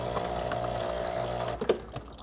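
A Breville Barista Express espresso machine pumps a shot with a steady buzzing vibration that cuts off near the end, followed by a brief clack and soft liquid trickle.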